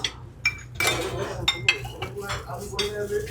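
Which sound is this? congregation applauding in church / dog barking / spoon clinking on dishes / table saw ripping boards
spoon clinking on dishes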